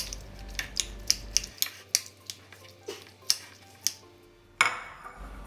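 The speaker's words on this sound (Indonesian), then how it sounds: "Satu buah tahu dihaluskan, boleh menggunakan pisau ataupun sendok." Tofu mashed with a knife or spoon, a series of light, sharp clicks and taps of metal against a dish or board in an irregular rhythm, close by, with one louder scrape near the end.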